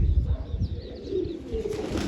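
Pigeons coo close by in low, throaty, repeated calls, with a soft rustle of birds around them.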